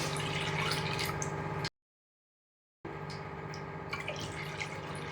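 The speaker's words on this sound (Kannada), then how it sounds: "ಅದೇ ಬಟ್ಲಿಂದ ನಾನು 2 ಬಟ್ಲ ನೀರು ಹಾಕ್ತಾಯಿದ್ದೀನಿ." Two cups of water pour into a pan for rice-flour kodubale: a steady, quiet trickle and splash, broken by a short gap of total silence before the pouring resumes.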